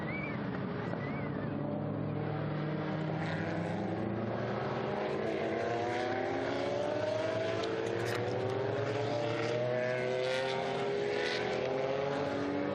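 Historic Chevrolet Corvette and Porsche race cars at the Estoril Classics circuit roar past steadily, engine tones rising and sweeping, loud and continuous with no talk.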